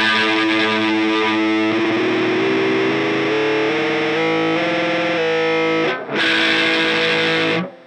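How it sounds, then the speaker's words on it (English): A distorted electric guitar played through a Whammy pedal's harmony interval setting sustains shifting pitched notes, briefly dips to near silence, then surges back loud and bright. "Now play your guitar, and you'll hear the interval."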